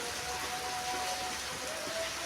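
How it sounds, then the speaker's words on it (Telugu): Steady rain falling outdoors, a dense even hiss of drops on surfaces that holds constant throughout with no talk. "వాన వచ్చేసింది"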